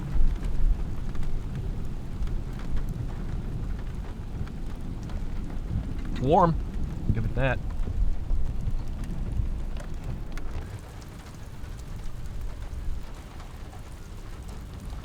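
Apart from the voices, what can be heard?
rain falling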